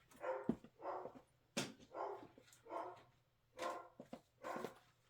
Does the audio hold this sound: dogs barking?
yes